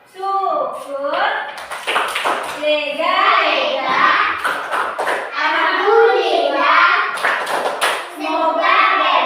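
Children clapping a rhythmic syukur chant in a classroom, brisk patterned claps mixed with their loud sung and spoken voices throughout, close and lively.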